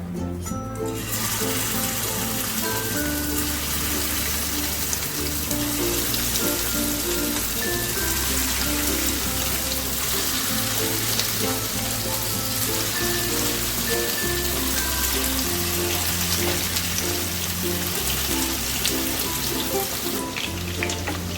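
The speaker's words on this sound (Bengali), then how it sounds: "দেখো তেলটা গরম হয়ে গেছে এবারে আমি চিকেনগুলোকে দিয়ে দেবো" Steady, loud sizzling and crackling of chicken pieces frying in hot oil, a dense continuous hiss with no talking.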